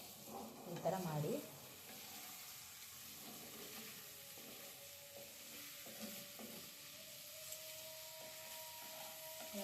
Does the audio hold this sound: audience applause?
no